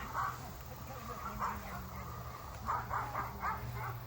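Several yips and barks come from a dog out in an open garden area, quite faint and distant, in short bursts with a pause in the middle over a low engine rumble.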